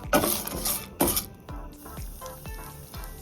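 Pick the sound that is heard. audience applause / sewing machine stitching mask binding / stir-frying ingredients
stir-frying ingredients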